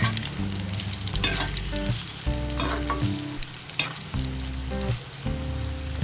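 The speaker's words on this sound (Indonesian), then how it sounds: "Tempe dan ikan terinya digoreng dulu ya." Tempe and anchovies fry in oil with a dense steady sizzle and frequent stirring, heard close over quiet background music.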